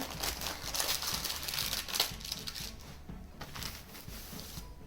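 Baking foil crinkling and rustling as a gluten-free chocolate sponge roll is flipped over, close and fairly soft, with the crackle thinning out toward the end and no talk.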